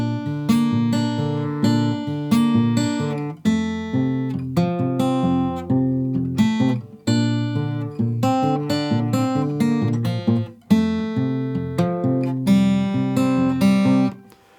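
Acoustic guitar strumming the first line of the chorus of a song, steady chord changes ringing clearly and close, with no talking.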